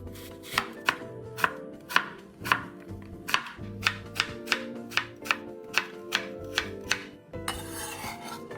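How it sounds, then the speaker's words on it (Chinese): A knife chops a red apple into strips on a cutting board: about fourteen crisp, evenly spaced knocks in quick succession, close and clear, with no talking. "一样切成丝"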